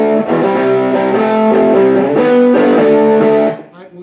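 A distorted electric guitar plays an intro riff: loud, thick chords and notes sustained in a continuous line for about three and a half seconds before cutting off.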